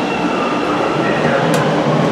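A CTA subway train arriving at Davis Street station in Evanston, Illinois rumbles and clatters loudly at close range, steady rail noise with a brief high squeal, and a voice faintly underneath.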